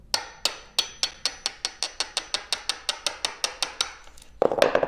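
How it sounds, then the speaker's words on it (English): A chisel driven by a hammer into wood while framing a vintage teardrop trailer: about fifteen sharp, evenly spaced knocks in a quick steady rhythm, close and clear, ending in a brief rougher scraping burst. "Line up our chisel."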